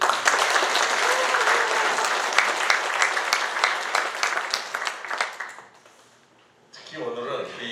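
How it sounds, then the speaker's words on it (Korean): Audience applause for a guest speaker at a Korean international politics lecture, a dense burst of clapping that runs strong for several seconds, fades to near silence, then resumes faintly with a voice beginning to speak. "우리 박수 한번 드리죠"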